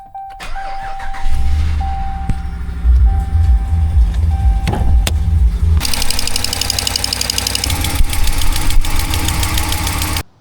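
Cold start of a 2019 Ram 1500 with the 5.7 Hemi V8 and a ticking fault: loud, close engine cranking, then a steady idle with a rapid, even tick running through it.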